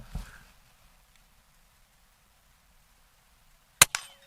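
A Hatsan Jet 2 .22 air pistol fires a single sharp, close crack near the end, followed by a brief rattle, after a faint thump at the start and near silence between.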